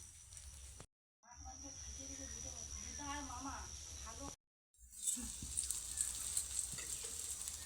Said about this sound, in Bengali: যে তিনটা বাকি রয়েছে ঠিক একই রকমভাবে কিন্তু ভেজে নিচ্ছি